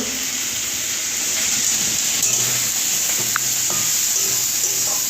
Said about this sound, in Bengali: আর সঙ্গে দিয়ে দিয়েছে লবণ যাতে তাড়াতাড়ি করে পেঁয়াজটা ভাজা হয়ে যায়